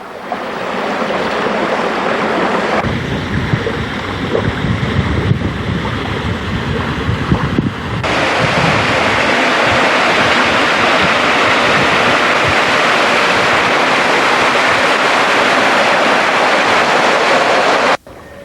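A waterfall on the Niobrara River roars in a steady, loud wash of rushing water with wind buffeting the microphone, continuous and close throughout.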